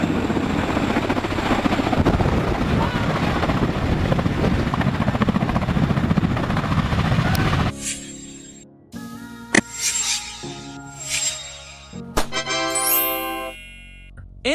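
A military cargo helicopter roars with a dense, steady rotor and engine wash for several seconds, then cuts off abruptly into scattered bright chimes and tinkling tones.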